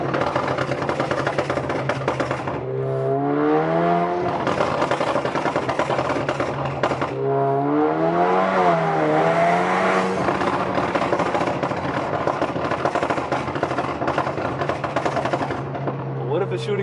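An Alfa Romeo Giulia engine revs loudly and close by, its pitch sweeping up and falling back in two big pulls over a steady idle drone.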